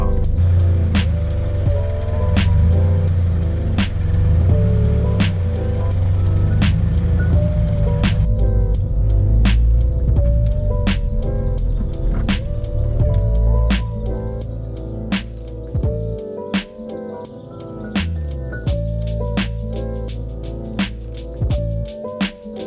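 A Mitsubishi Evo 10 on a test drive after a blown inline fuse was fixed: a loud steady engine and road drone inside the cabin, with a few shifts in pitch and scattered clicks and taps over the hum.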